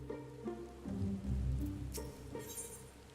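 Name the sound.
heavy rain falling in video game Final Fantasy XIV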